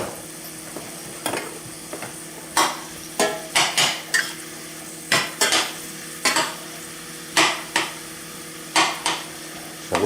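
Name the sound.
mushrooms, onions and garlic cooking in a pan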